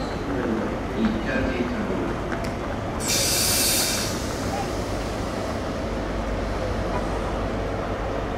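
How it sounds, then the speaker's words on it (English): A class 37 diesel locomotive hauling a scrap train at Cardiff, with a steady loud rumble of wagons running past close by and a brief hiss of air partway through. "We even get class 37 with a scrap train."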